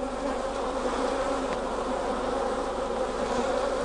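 A dense, steady drone of honey bees buzzing fills a Langstroth hive during an inspection, close and continuous with no voices.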